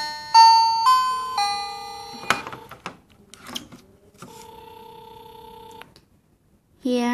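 A wifi video doorbell plays its call ringtone: a bright stepped chime of several electronic notes, then a long, steady two-pitch electronic tone that stops, followed by a short burst of another tone at the end.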